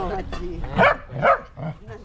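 A dog barks in a few short bursts close by, mixed in with people talking over a steady background hum.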